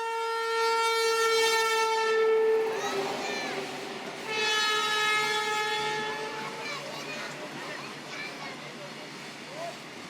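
A train on a railway track during a film shoot sounds two long, loud horn blasts, followed by a fading rumble of the passing train.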